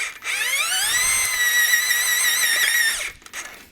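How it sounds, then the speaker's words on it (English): A 5-inch drill boring small holes gives a close, loud, steady whine that rises in pitch as it spins up, holds for about three seconds, then cuts off, followed by a short mechanical rattle. "you just drill little holes, and you come right to the next hole like this"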